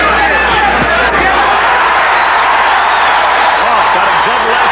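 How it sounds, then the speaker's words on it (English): A restless boxing arena crowd unsettled by the referee's antics, a loud continuous roar of murmuring and shouting that fills the whole stretch evenly, with no single voice standing out. "the crowd in a state of definite unrest over the antics of the referee"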